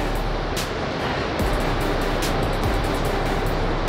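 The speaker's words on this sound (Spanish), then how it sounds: "El mar, se alcanza a escuchar" Sea surf at the beach in Tecolutla, Veracruz, heard from a balcony: a loud, continuous broadband roar of rough waves with surges swelling and easing, no voices over it.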